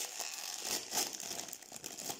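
A 100-gram plastic bag of Fonzies corn-and-cheese snack crinkles as it is opened, a steady close rustling with a couple of sharper crackles, no talking.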